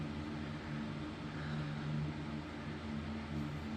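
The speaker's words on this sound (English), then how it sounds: "I've got a fan running because it's super hot today." Electric fan running in a hot room, a steady low hum with a faint whooshing airflow, constant and unbroken throughout.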